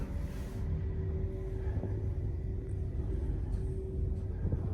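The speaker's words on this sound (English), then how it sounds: "Lift going up." An elevator car rising, heard as a steady low rumble and hum that holds even throughout with no talking.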